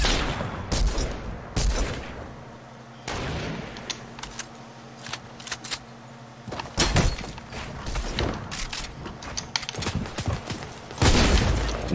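Gunfire in the Fortnite video game: scattered sharp shots and short bursts of varying loudness, some close and some more distant, over a steady game background hum with no talking.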